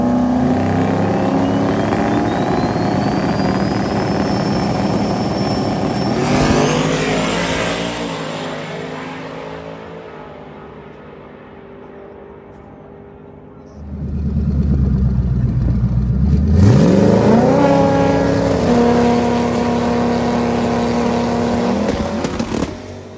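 A turbocharged Mustang and a GTR launch down a drag strip at a street car event: loud roaring engines with a rising turbo whine, fading into the distance, then a second hard pass swells back close and loud.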